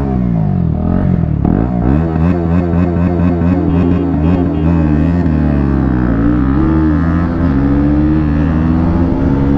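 Two 2024 KTM Duke 250 motorcycles accelerate hard side by side in a drag race, loud engines climbing through repeated gear shifts with rising and dipping pitch, close and continuous with no talk.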